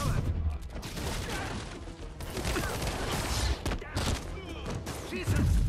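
Rapid bursts of gunfire ring out in a combat scene from the 2018 Spider-Man video game, moderately loud and frequent, with thuds and mechanical clatter mixed in beneath spoken voices.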